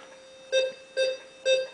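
A Rutus Argo metal detector gives a faint response to a 10-grosz coin: three short, even electronic beeps about half a second apart, each rising briefly over a steady background tone.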